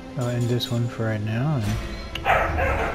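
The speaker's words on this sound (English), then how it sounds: "I apologize for my dog." A pet dog barks and whines indoors close to a person who is talking, with short yelps and a rougher bark near the end, mixed under the speech.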